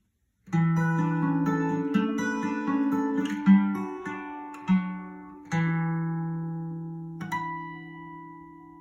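The outro of Scarborough Fair on acoustic guitar at normal speed, with an open A ringing underneath: plucked notes and chords over several bars, each new strum followed by sustained ringing decay.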